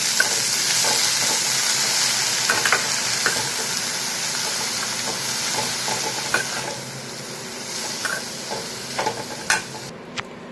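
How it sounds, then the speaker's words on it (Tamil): Onion, spinach and garlic sizzle and fry steadily in a hot pan, with a continuous bright hiss broken by occasional stirring clicks and scrapes, close and fairly loud throughout. "வெங்காயம், கீரை, பூண்டு எல்லாத்தையும் இதில் போட்டு நல்லா வந்து வதக்கி விடுங்க."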